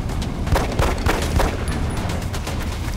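Rapid bursts of soldier gunfire in XCOM Enemy Unknown, several loud sharp shots in an uneven cluster over a dense rumbling backdrop, with no talk.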